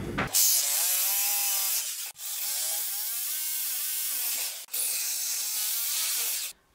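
A power drill fitted with an 8 mm bit bores into a wall during insulation and plasterboard work, in three close, loud bursts of high-pitched whining with short pauses between them.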